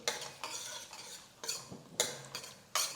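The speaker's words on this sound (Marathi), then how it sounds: "सांबार मसाला जास्त परतायचा नाही बरं का फोडणीमध्ये हे चांगलं परतून घेतलंय" A spoon stirs sambar masala and chilli powder in hot tempering in a pan, giving several short scraping clatters of metal on metal over a faint sizzle, close and fairly loud.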